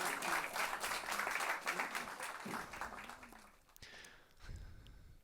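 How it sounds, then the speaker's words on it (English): An audience at a FIFA esports showmatch claps and applauds steadily for a few seconds, then the clapping thins out and fades to scattered claps near the end. "can we give them a round of applause,"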